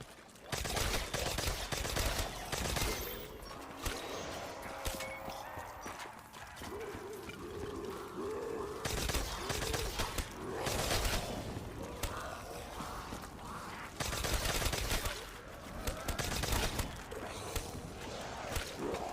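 Mark II gunfire in Black Ops 3 zombies on the Nacht map, rounds of bursts and single shots fired at close range, mixed with footsteps and game noise.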